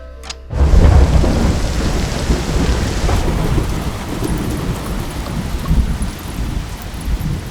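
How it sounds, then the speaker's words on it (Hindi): Heavy rain pours down in a steady, loud roar with deep thunder rumbling through it, continuous and close, with no voices. "शैलू, ये क्या इतनी बारिश में?"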